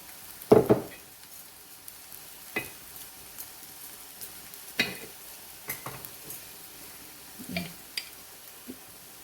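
Makki ki roti cooking in oil on a griddle: a quiet close sizzle with sharp taps and scrapes at intervals, the loudest near the start, no voices.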